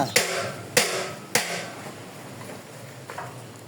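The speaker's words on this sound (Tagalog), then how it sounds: "Pagpunan mo ng martilyo yan para... Baklasin mo na." Three sharp hammer strikes ring out at a steady pace while something is being pried apart and dismantled, followed by faint knocking and a voice in the background.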